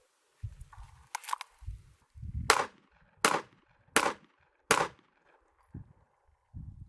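A Smith & Wesson M&P2.0 Metal Carry Comp pistol fires four evenly spaced 115 grain 9mm Blazer rounds, sharp loud cracks about three quarters of a second apart, with softer handling thumps and rustles before and after.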